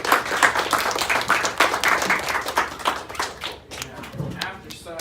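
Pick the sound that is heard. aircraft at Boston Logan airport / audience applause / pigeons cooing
audience applause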